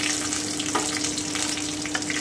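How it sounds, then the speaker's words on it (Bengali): Mustard seeds, fenugreek, cinnamon and dried chillies sizzle in hot oil on lowered heat, a steady, close, crackling hiss that holds throughout with no talking. "এবারে আমি সর্ষে, মেথি, দারচিনি আর কাঁচা শুকনো লঙ্কাটা দিয়ে দিচ্ছি।"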